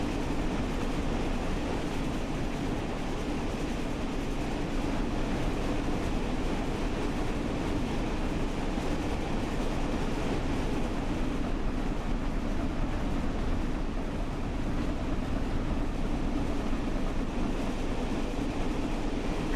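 The Flying Scotsman steam locomotive, driven at speed in Train Sim World 5, gives a steady rumbling roar of wheels and running gear, continuous and unbroken with faint rhythmic rail clatter and no talk.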